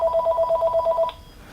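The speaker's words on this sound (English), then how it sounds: "And there goes the phone." A telephone rings with a fast warbling electronic trill in rapid pulses, clear and close for about a second before cutting off to quiet room tone.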